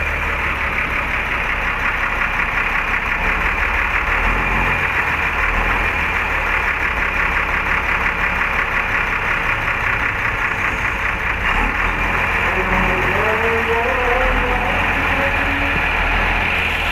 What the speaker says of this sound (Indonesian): Suara mesinnya halus ya.